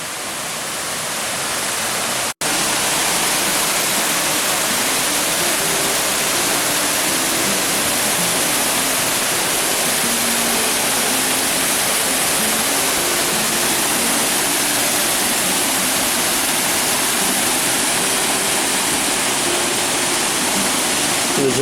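Clear spring water rushing by a deep bathing pool in Trinidad, a loud continuous broadband roar of flowing water close to the microphone after a brief dropout near the start.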